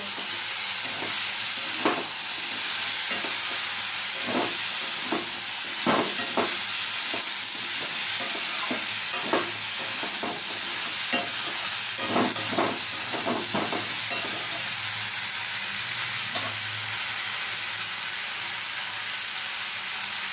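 Mixed vegetable curry (pachmesali torkari) frying in a pan, stirred with a steady sizzle and a scatter of sharp scraping clicks from the spoon against the pan, close and continuous, with no voices.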